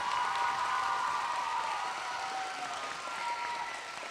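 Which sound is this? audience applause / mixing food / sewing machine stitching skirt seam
audience applause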